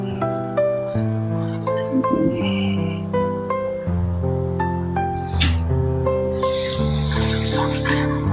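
Water poured or running at a home kitchen during traditional cooking, with trickling and splashing heard at moderate level along with clinks and light handling sounds. There is no talk.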